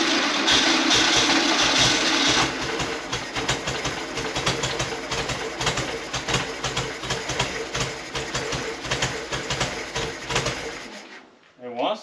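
A 1971 VW Super Beetle's air-cooled engine turns over and runs with a steady, fast mechanical chatter, close and loud, then cuts off abruptly near the end.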